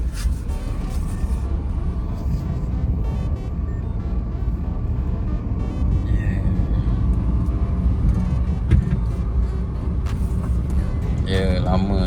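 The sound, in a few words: manual car engine while driving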